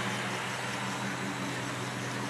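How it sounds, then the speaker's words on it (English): A 2007 Dodge Charger R/T's exhaust idles with a low, steady, loping rumble, heard fairly quietly and continuously with no voices. "You can hear the exhaust."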